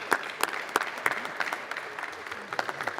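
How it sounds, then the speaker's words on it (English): Applause for John at a floor house gathering with trophy winners: scattered, uneven claps from a small group, with sharp individual hand strikes standing out over a thin patter for about three seconds. "let's give John a big round of applause"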